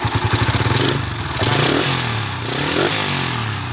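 A Honda Sonic 125 motorcycle fitted with a custom-built exhaust revs up close by, the throttle blipped in quick pulses at first and then held in longer, rising and falling surges, loud and harsh with a rattling edge.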